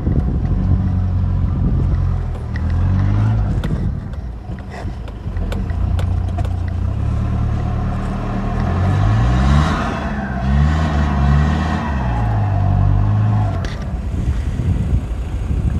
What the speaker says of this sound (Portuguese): no 4x2, ó, já começou, já dá para sentir que a caminhonete vai pedindo marcha